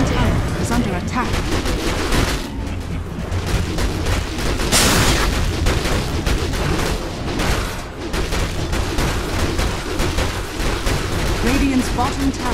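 Battle noise from the Dota 2 video game as a tower is attacked: dense, continuous hits, blasts and booming impacts fill the mix, with an announcer's voice speaking over the fight.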